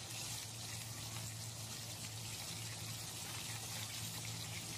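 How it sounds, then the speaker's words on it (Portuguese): Water pours into a pan of sautéed tomato for a soup, a steady rushing, splashing stream filling the pan without pause, close and even. "E já vou colocar água."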